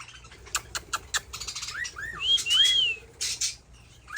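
A small bird sings and whistles nearby, a run of quick chirps followed by rising and falling whistled notes, fairly loud against a quiet background.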